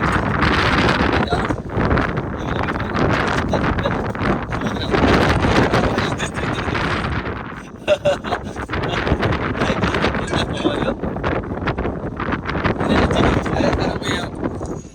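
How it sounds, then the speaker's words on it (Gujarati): Strong wind buffeting the microphone high on Girnar mountain during the monsoon, loud gusty roaring that surges and dips, briefly easing near the middle before rising again, with a voice speaking under it. "ભાઈ પવન તો જો કેવો અવાજ"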